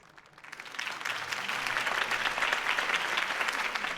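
Crowd applause swells after a campaign speech in the Batman Telltale video game, rising from quiet to a dense, sustained clapping that holds steady to the end.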